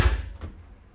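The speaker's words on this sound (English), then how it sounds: "or a door that shuts here." A cruise ship stateroom door on the Disney Wish swings shut with one close, solid thud, followed by a short fading rattle in a quiet room.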